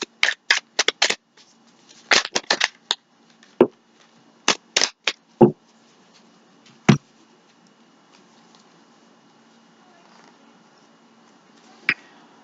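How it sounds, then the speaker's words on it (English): Tarot cards are shuffled in quick clusters of sharp riffling snaps, close and crisp, separated by pauses and ending with one isolated click. "we're going to give it one more shuffle"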